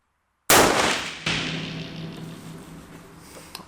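A single loud rifle shot from a Mosin-Nagant M44 carbine fired outdoors, a sharp blast followed by a long decaying echo and ringing tail; a faint second crack sounds partway through the fade.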